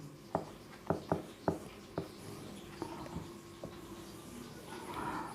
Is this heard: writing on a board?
yes